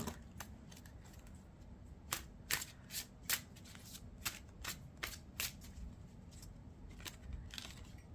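Tarot cards riffle and snap in quick bursts, a series of crisp shuffling sounds up close with short pauses between, no talking.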